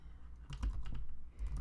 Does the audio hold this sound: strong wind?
no